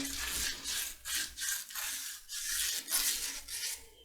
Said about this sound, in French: Vous voyez, j'ai poncé à l'intérieur.